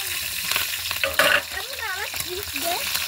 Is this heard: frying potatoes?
yes